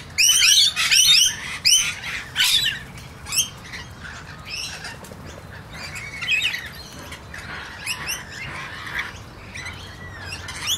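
Birds including rainbow lorikeets and a blue-faced honeyeater squawking and chirping at a bird sanctuary, loud bursts of close, shrill calls up front that thin into fainter, scattered chatter with a hint of wing flutter.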